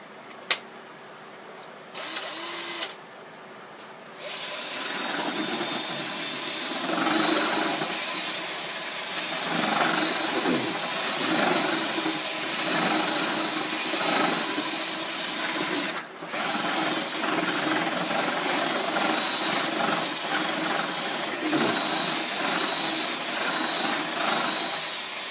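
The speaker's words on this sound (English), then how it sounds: "And put in an old drill here." An old electric drill fitted with a paint-mixing paddle whirs steadily while stirring pottery glaze in a bucket. A brief start-stop comes first, then a long, continuous close-up grinding hum.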